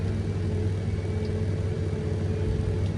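Car interior rumble while driving along the border of a storm-damaged Swedish forest, a steady low engine drone and road hum, continuous and even with no speech.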